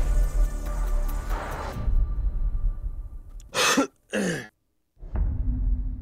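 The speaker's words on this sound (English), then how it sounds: "Bro's coughing as a call out." A person coughs over voice chat during a tactical online shooter match, two or three short harsh bursts standing out near the middle against steady game noise and background hum.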